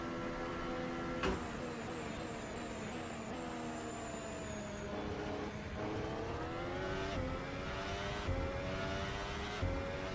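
A 2015 Ferrari Formula 1 car screams around the Sochi track in a sim racing game, its high engine whine climbing repeatedly in pitch with quick gear-shift drops and near-constant loudness.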